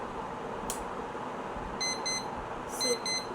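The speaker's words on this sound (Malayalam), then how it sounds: "ഭയങ്കര വലിയ സൗണ്ടൊക്കെ കൊടുക്കും ഗൈസ് ഈ അലാറം" A phone alarm clock goes off with two short bursts of bright, repeated electronic beeps, fairly faint over a quiet room hiss.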